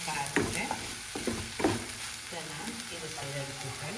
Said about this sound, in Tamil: பாருங்க தேங்காய் இதுக்குள்ளே நான் போட போகிறேன் போட்டுட்டு இப்படியே பிரட்டி எடுக்க